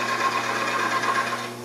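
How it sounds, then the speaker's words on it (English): A wood lathe spins a table leg while a skew chisel works it. A steady, fairly loud close hum holds for under two seconds. "I'll take the skew and I'll go from the top down into the valleys."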